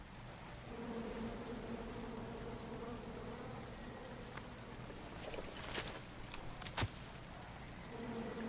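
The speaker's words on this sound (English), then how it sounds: "Come at me, bees!" Bees buzz in the King's Quest video game, a steady insect drone running through the whole stretch with a few sharper accents near the end, moderately loud and with no talk over it.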